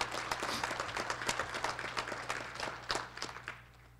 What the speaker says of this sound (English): Let's give all of these employees another round of applause and welcome them to Terrace State.